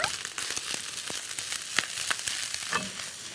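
Butter sizzling in a hot pan with abalone, a steady bright frying hiss broken by small crackles and pops, close and fairly quiet.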